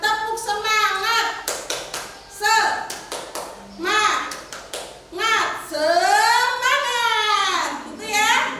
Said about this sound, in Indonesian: Ice breakingnya di sini itu tepuk semangat.